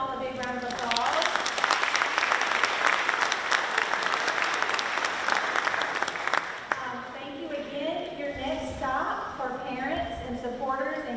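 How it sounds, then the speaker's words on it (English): A crowd breaks into sustained applause for several seconds, then it fades as a voice begins speaking over the dying claps. "So let's give them all a big round of applause."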